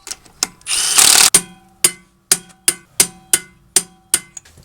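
A Milwaukee M18 Fuel impact wrench snugs Toyota Tundra caliper bolts back down: a short continuous whir, then a rapid series of about nine sharp, evenly spaced hammering bursts, loud and close.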